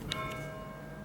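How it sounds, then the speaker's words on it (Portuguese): A town church bell rings out the half hour in Zweibrach, a single clear metallic strike with a long humming decay that fades slowly over a quiet background, no voices present. "esse sino é assim, aqui em Zweibrach, na minha cidade, por exemplo, meio-dia, aí depois meio-dia e meia, aí depois uma e meia, de meia em meia hora vai batendo o sino"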